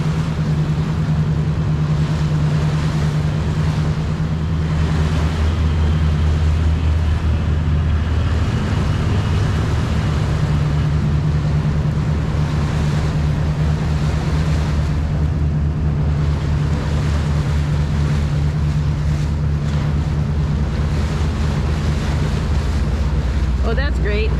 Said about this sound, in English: And then you see these big barges come through.